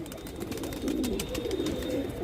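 Pigeons coo in soft, repeated throaty calls close by, a few overlapping low burbles with light rustling and no speech.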